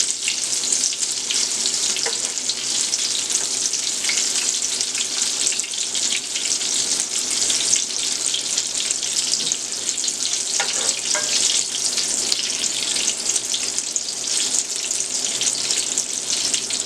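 Green tomato slices frying in a pan, a dense, even hiss of hot oil sizzling continuously at close range, with faint clicks here and there.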